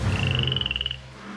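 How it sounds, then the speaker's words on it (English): A frog being handled gives a short croaking trill, a rapid pulsed call lasting under a second over low background rumble, close and fairly clear. "That's enough frog handling for me."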